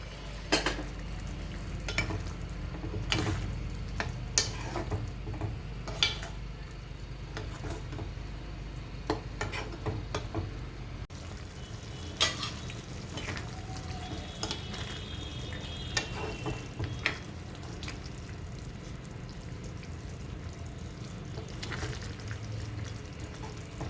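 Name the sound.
soya chunks (meal maker) simmering in masala curry gravy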